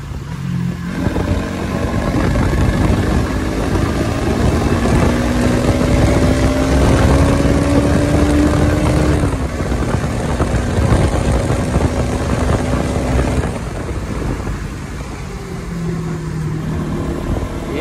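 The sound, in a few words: Bajaj Pulsar NS200 BS6 motorcycle engine revving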